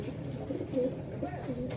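Pigeons coo softly in a racing loft, a few low murmuring calls overlapping at close range against a steady background hum.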